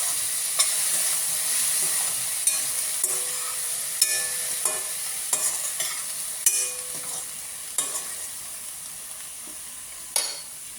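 Cauliflower and onion with salt frying on low heat in a pan, a steady close sizzle broken by periodic scrapes and clacks as it is stirred.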